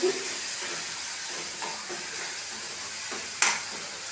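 Ridge gourd yogurt chutney mixture with chilli powder is stirred in a hot pan, a steady close hiss and sizzle with soft scraping strokes and one sharp clink near the end, no talk.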